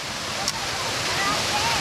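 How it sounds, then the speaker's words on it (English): A waterfall on a hiking trail, its broad, steady rushing roar filling the scene at close range, with no one speaking over it. "Oh, it's a waterfall."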